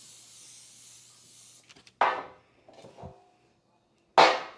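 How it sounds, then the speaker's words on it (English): A can of butter-flavored non-stick cooking spray gives two short, sharp hissing bursts, with quiet handling clicks between them. "Non-stick butter spray! Butter flavored."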